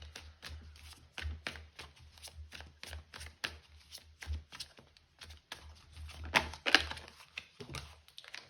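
Tarot cards shuffled by hand in quick repeated riffles and soft slaps, close and crisp, with irregular bursts of papery flicking and a few louder snaps near the end.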